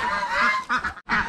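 Farmyard ducks and geese honk and quack in a few quick nasal calls close by, with short breaks between the bursts.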